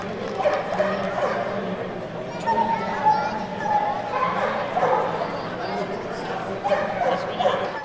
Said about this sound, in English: The next dog up seemed to enjoy the water.